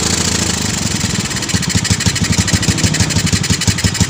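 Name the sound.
three-wheeler motorcycle engine revving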